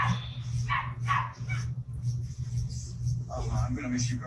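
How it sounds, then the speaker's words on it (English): A dog barks a few times indoors, short yips and barks mixed with a person talking over a steady low hum. "If you don't like the dog barking, then get out."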